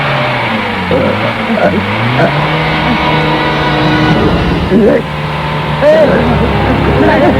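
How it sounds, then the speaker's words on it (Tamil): A vehicle engine revs up and down in shifting pitches and then pulls away under strain, loud and close, with excited shouting voices over it. "போடா சீக்கிரம் வண்டி எடுறா"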